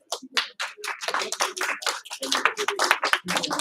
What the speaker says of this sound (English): Everyone give 1 clap.